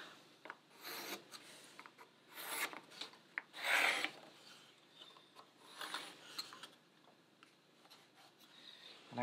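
Pencil lead drawing a cockpit pattern onto a sheet of MDF for a 2.4mR sailboat carlin mold, heard as close, dry scratchy rasping strokes in short bursts with brief pauses between them.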